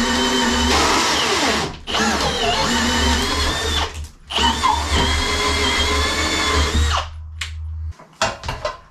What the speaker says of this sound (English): Crunch is the sound of my drill giving up as it happens.